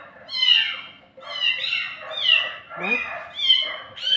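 Kitten meowing repeatedly, about five high, rising-and-falling cries spaced roughly a second apart, close and fairly loud, with a brief human voice in between.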